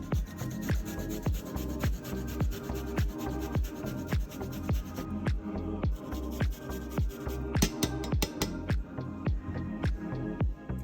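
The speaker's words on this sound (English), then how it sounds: "And we're just going to grate about 1 teaspoon." Fresh ginger grated on a grater in a home kitchen, a steady run of quick rhythmic scraping strokes, close and fairly quiet, with no talking.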